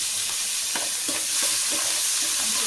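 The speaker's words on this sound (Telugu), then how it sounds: "ఇప్పుడే అదే ఆయిల్లో ఉల్లిపాయలు పచ్చిమిరపకాయలు కరివేపాకు" Onions, green chilies and curry leaves frying in oil in a pan, a continuous close sizzle broken by a few soft stirring scrapes, with no speech.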